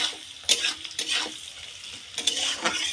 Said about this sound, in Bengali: পেঁয়াজটা লাল লাল করে ভেজে নিতে হবে